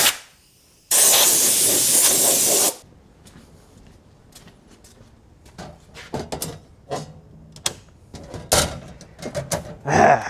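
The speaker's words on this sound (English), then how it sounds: "Air compressor's got a leak" A leaking air compressor lets out a loud, sustained hiss for about two seconds. Scattered knocks and light clatter follow in a quieter background.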